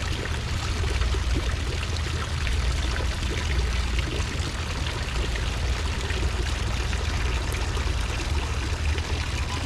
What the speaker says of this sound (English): let's listen to some of the calming effect of the water here